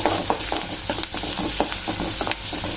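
Onion frying in oil in a pan for a raw tomato chutney, with a close, busy sizzle broken by repeated spatula scrapes and taps as it is stirred.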